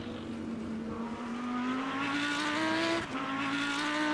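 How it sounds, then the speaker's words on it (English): A Lamborghini race car in a multi-class endurance racing sim at Circuit of the Americas, its engine note rising steadily as it accelerates through a gear, with a brief dip at a shift, sustained and fairly close. "That sounds like a Lambo."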